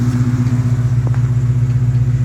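A Coyote V8-swapped Fox body Ford Mustang idles close by with a steady, low, even hum and a slight pulsing throb.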